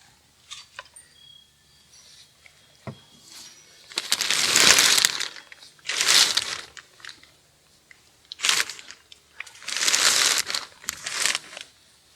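Plastic cover of a garden tunnel sheltering tomato, melon, aubergine and pepper plants being opened, with loud crinkling and rustling bursts of sheet plastic in several separate pulls, close by with quiet gaps between them.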